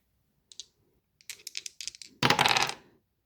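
A six-sided die and a twelve-sided die rolled on a table, a few sharp clicks, then a quick rattling tumble that ends in a burst of clattering, close and fairly quiet.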